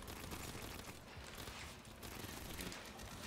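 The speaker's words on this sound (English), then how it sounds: "Pop up sentry guns." Automated sentry guns in the Aliens Fireteam Elite video game rattle off a dense, continuous stream of fire, heard close and unbroken for a few seconds.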